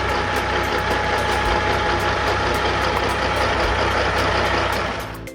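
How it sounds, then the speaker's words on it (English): A large timber logging truck carrying a heavy load turns slowly, its diesel engine a loud, continuous roar with a rough, knocking edge that eases off at the very end; no voices. "this large timber truck cautiously makes a turn"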